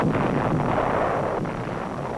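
Massed American artillery guns in a university yard in Manila, 1945, firing against enemy artillery positions: a dense, continuous broadband roar with rumbling booms blending together, loud and steady with no voices.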